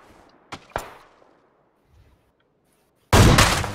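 Gunfire in the PUBG battle royale video game: two sharp reports in quick succession, a faint thud, then a loud, dense burst of shots after a pause.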